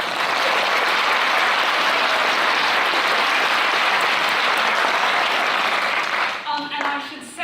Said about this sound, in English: Please give them a really warm applause